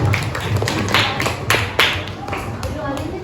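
Classroom applause for a student group after its presentation: a few scattered hand claps with taps and rustling under classroom noise, nearby and moderately loud.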